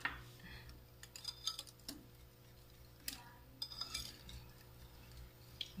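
A cup of sugar stirred into banana cake batter, with light clinks and taps of a utensil against the bowl in an irregular rhythm, close but quiet.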